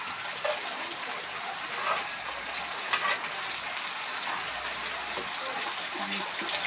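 Potatoes fry in a pan with a steady, close crackling sizzle of hot oil, one sharp pop near the middle and faint voices in the background.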